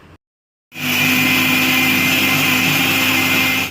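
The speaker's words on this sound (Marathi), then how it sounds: "आता मिक्सरला झाकण लावून याला मिक्सरमधून ग्राइंड करून घेऊया" A kitchen mixer grinder kicks on after a brief silence and whirs loud and steady, grinding garlic, coriander and green chillies into a paste, the motor hum staying constant up close until the end.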